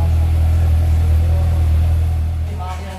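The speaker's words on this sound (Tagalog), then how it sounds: "Ganda ng tunog, idol. GSX 750 mga idol. Napaka-solid na exhaust sound." A Suzuki GSX-S 750 inline-four motorcycle rumbles steadily through its exhaust, a loud, continuous low engine drone that eases slightly at the end, with no clear sharp revs.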